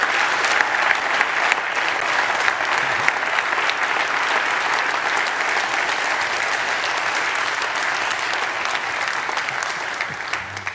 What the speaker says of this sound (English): That's your second standing ovation today